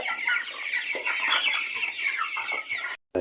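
Noiler and broiler chickens crowd a pen together, their busy overlapping clucks and chatter filling the space at moderate loudness, with no voices over them.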